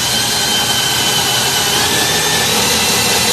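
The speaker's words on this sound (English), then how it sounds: "I think our drill needs to be charged, because it should be through already." A cordless drill bores through a wooden cutting board, giving a loud, steady, unbroken whine and grind that holds at one level for the whole stretch.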